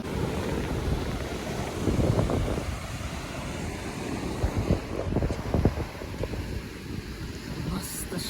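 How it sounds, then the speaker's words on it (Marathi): Water and waves wash steadily at a river mouth on Galgibaga beach in South Goa. Wind buffets the microphone, and a few louder surges rise through the constant rushing noise. "फक्त पाण्याचा आवाज आहे"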